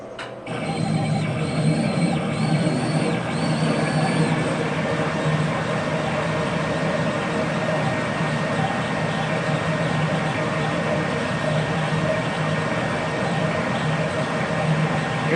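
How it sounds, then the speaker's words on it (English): A CO2 laser engraver cutter, the RMLaser RM960 Pro, starts up with its blower motor, and a steady loud mechanical whir and drone runs continuously after a brief starting thump, with faint higher whines near the beginning. "Here the blower motor kicked on right away when the machine started going. I got the engraver here going."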